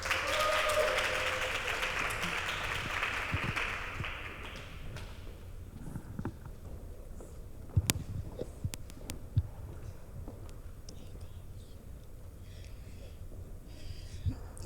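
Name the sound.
audience applause at a book launch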